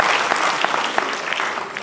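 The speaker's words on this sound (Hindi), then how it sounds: "पूरी टीम के लिए आपकी तालियां हों।" An audience at an award ceremony at the Sangeet Natak Academy in Gomti Nagar claps for the team. The applause is dense and steady, with many hands close by and a faint murmur underneath.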